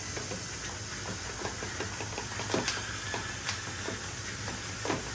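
Eggs are whisked in a bowl for a breakfast casserole: light, quick ticking taps in a loose rhythm, faint over a steady background hiss.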